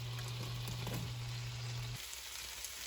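Fajita vegetables sizzle steadily in half a tablespoon of oil and beef juices in a hot pan, a continuous close frying hiss with a low electrical hum present for the first two seconds.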